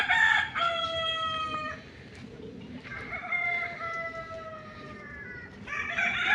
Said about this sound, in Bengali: মুরগি ডাকাডাকি করছে দেখতে পাচ্ছেন